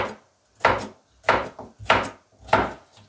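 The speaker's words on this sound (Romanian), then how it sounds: "Cartofii o să tăiem cu bulețe mai mici" Potatoes being diced into small pieces on a wooden board for cabbage soup: five crisp, evenly spaced knife chops land near and clear, with quiet pauses between them.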